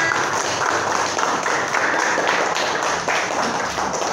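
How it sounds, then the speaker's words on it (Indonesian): A classroom of students claps for a classmate, Dimas, during a lesson: a fairly loud, slightly uneven patter of many hands with a few sharper individual claps, continuing throughout. "Oke, tepuk tangan untuk Dimas"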